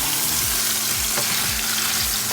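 Minced chicken keema sautéing in a pan, a steady close sizzle with several soft scraping stirs at regular intervals.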